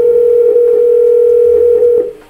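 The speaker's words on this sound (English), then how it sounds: "Once you click the phone number on the browser, Comstice Softphone will dial out the number through your Amazon Connect instance." A steady, loud dial tone plays from a softphone linked to Amazon Connect and runs unbroken before cutting off near the end, with faint clicks of dialing behind it.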